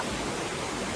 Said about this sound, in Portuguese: O Paco e eu estamos na cascata do Panelão